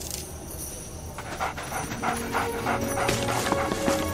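A cartoon dog pants in quick, breathy rhythmic puffs, close and moderately loud over a light background.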